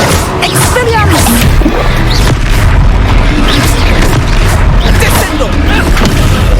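Booming blasts and crashing magical impacts from a Hogwarts Legacy battle ring out loud and near, several heavy hits scattered through the stretch with voices shouting over the combat.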